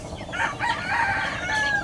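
A large Tolis White broodcock rooster at a breeding farm crows and clucks in a steady, fairly close run of warbling calls, with other fowl noise around it.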